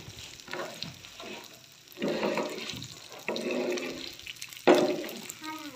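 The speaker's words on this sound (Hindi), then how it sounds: "पहले चावलों की बुनाई कर लें इस तरह।" Rice grains being dry-roasted in a pan in a home kitchen, giving a soft crackling, rustling stir with louder bursts as the grains are moved, and faint background noise.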